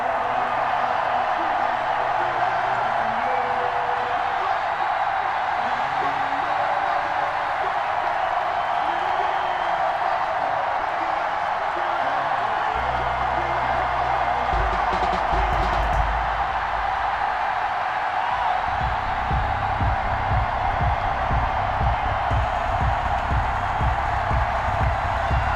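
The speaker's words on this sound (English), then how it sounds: "Big Ben Roethlisberger greeted by this sold-out Heinz Field crowd" A sold-out stadium crowd at Heinz Field roars steadily in a Madden NFL 21 Steelers versus Texans game, a dense continuous far-off cheer with a low rumble joining partway through.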